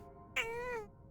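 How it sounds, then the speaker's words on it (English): A pet cat gives a single drawn-out, rising then falling meow, close and clear over a faint steady background hum. "What a good tum-tum, what a good kitty."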